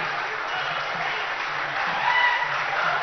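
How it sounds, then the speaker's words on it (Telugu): A crowd at the foundation-stone ceremony for Telangana's Future City claps continuously, a dense, even wash of applause heard at a moderate distance that swells slightly near the end. "మీరు గట్టిగా చప్పట్లు కొడితే ఈ పండుగ మరింత ఆనందమయంగా ఉంటుంది"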